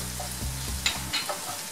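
Tomato and pepper paste fry in a pan with a dense, close sizzle as a spoon scrapes through it in a couple of quick strokes.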